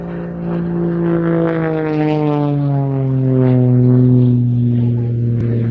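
An aerobatic propeller plane with a 300-horsepower Lycoming IO-540 engine dives in at an airshow, its loud engine drone sweeping downward in pitch as it passes close, with a clear Doppler shift.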